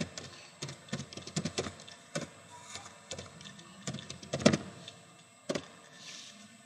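Keys on a computer keyboard are tapped in short irregular bursts with a few sharper clacks, quiet and close, as a command is typed on a Windows Server 2003 machine, with no talking.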